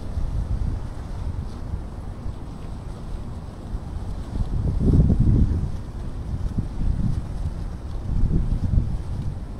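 Steady wind rushes past the microphone beside water during tenkara fishing with a shrimp lure, swelling into louder buffeting gusts midway and again near the end, with no talk.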